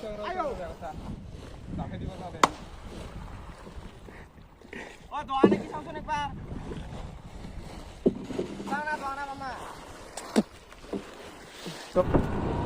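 A small wooden boat is rowed on river water, with soft splashing paddle strokes and knocks under wind noise while people talk and shout nearby.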